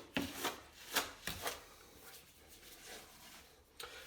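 A trowel scrapes and rasps as ARDEX A 46 repair mortar is pressed into the gap at the back of a kitchen windowsill, several close, sharp strokes then softer, quieter smoothing.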